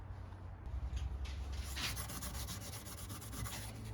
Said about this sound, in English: That's just a little wire brush on a Dremel, look.